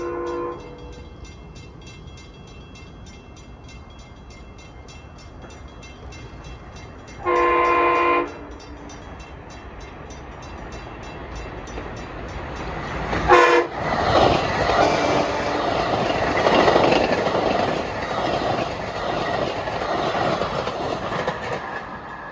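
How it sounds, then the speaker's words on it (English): A train horn sounds briefly, then a Budd M3 commuter train roars by close and loud, its rumble and rattling wheels building steadily. "And this train has Bud M3s."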